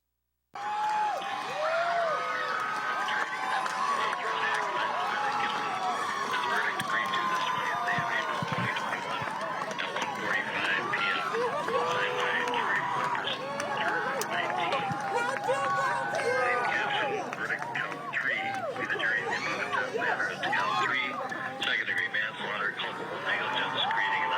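A crowd erupts after hearing guilty verdicts in the Derek Chauvin trial for George Floyd's death, a steady roar of cheering, shouting and voices sustained loudly for the full length without pause.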